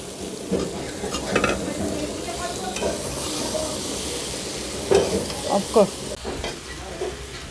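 Beans, brinjal and a fried bhetki fish head being stir-fried in a pan, a steady sizzle with a spatula scraping and clinking against the metal in irregular strokes, louder bursts near the end.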